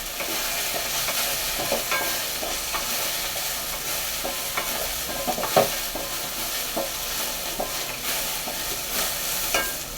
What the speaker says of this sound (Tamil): அதையும் போட்டுக்குவோம் போட்டு எல்லாத்தையும் நல்லா வதக்கிடுவோம்